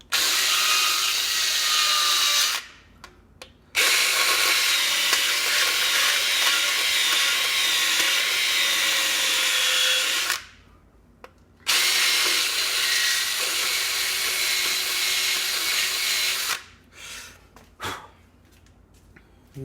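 A handheld power tool whirs while polishing a notched block, in long loud stretches separated by short pauses, then a few brief spurts at the end.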